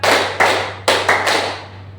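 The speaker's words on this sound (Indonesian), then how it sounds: "Tepuk 1, tepuk 2, tepuk 3, tepuk 4" A group of participants in a school workshop claps hands together in a counted rhythm, producing several sharp, loud group claps, each followed by a short decay, over a steady low electrical hum, with no talking.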